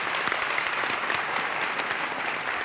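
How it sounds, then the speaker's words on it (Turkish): Studio audience applause on a 1996 Turkish television talk show, dense sustained clapping from a full crowd at steady loudness throughout. "Bir daha alkışlıyoruz."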